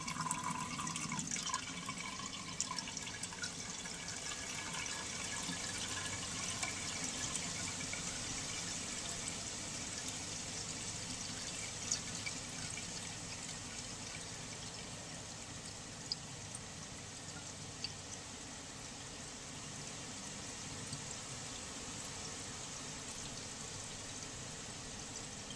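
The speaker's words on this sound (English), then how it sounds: "And water is beginning to trickle into the bowl." Water trickling steadily into the bowl of a 1970 American Standard Cadet toilet on a test stand, a faint continuous watery hiss with scattered drips, no speech.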